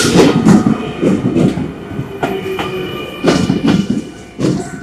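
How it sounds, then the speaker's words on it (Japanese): A passing train rolls through Tsutsujigaoka station, a loud rumbling roar with repeated rhythmic wheel clacks over rail joints, close and continuous throughout. "これ通過列車がね、やってきます。"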